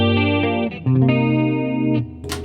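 Electric guitar with a Fractal AX8 effects unit adding chorus and reverb, playing sustained shimmering chords with a few changes, loud and close with no talk.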